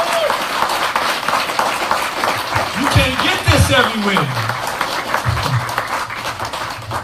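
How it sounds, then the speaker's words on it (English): A crowd at a youth program convention breaks into lively applause, dense clapping joined by whoops, cheers and excited voices that rise and swirl over the hands. "Let's give one more round of applause"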